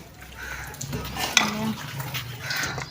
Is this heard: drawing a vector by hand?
no